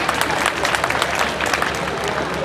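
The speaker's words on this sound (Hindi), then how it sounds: "बहुत सारी तालियां बजाने के लिए" An audience at a kavi sammelan poetry gathering claps steadily, a dense wash of applause from a sizable crowd that carries on without a break.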